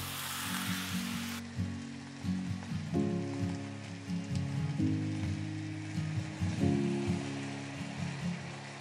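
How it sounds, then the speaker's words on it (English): Chow fun noodles with sauce and bean sprouts frying in a pan, a steady loud sizzle broken by repeated clattering scrapes and tosses; the hiss is sharpest at the start before the ingredients settle. "Add in the noodles, followed by the sauce."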